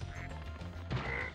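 Ducks in the Spyro 2: Ripto's Rage video game quacking, a couple of short nasal quacks close together over a steady game background hum.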